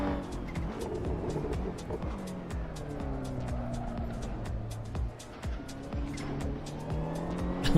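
Race cars in the Assetto Corsa racing game drone through the gears with rising and falling engine pitch, repeated tire squeals and skids, and cars passing nearby, all at moderate volume.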